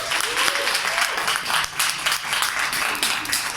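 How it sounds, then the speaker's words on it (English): A room full of people claps in dense, sustained applause for several seconds at a book launch event, loud and steady with no pause. "Please give them a round of applause."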